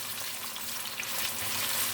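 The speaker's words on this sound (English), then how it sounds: "Can you hear the sizzle sound?" Onion fries in a pan with collard greens on the way, giving a continuous bright, hissing sizzle that stays close and even throughout.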